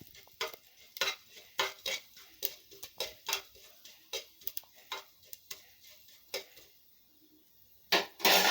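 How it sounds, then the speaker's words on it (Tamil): Mustard seeds, fenugreek and cumin sputter in hot oil, a string of sharp, irregular pops and crackles up close, thinning out before a louder burst at the end; nobody talks over them. "கடுகு, வெந்தயம், சீரகம் பொரியுதுங்க."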